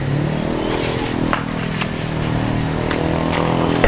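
Motorcycle engine running close by, a rough buzzing idle with a crackling exhaust and slight revving throughout, heard without speech.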